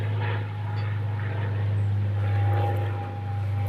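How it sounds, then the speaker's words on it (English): Airplane passing overhead outdoors, a steady, loud droning engine hum with a low throbbing tone that swells and eases, with no talking over it. "A plane going by."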